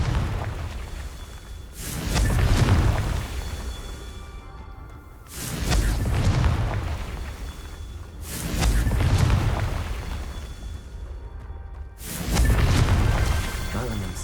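Four booming Confringo fire-spell blasts in Hogwarts Legacy, each a loud whooshing explosion that swells and decays over about a second, spaced roughly every three to four seconds with game ambience between.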